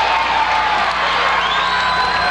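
A basketball arena crowd roars after a play, a dense, continuous wall of cheering and whoops that stays loud throughout.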